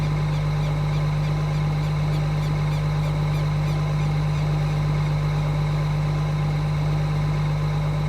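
A car engine idles steadily with a small exhaust leak, a continuous close low rumble with a faint blowing hiss and no talk.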